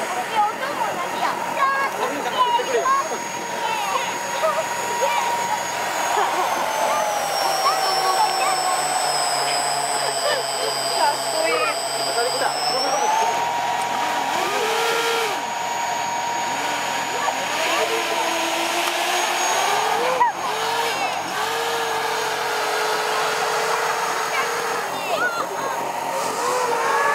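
Radio-controlled model hovercraft running on a hover base apron, a steady whining motor drone with shifting pitch sweeps, continuous and fairly close, with voices talking over it throughout.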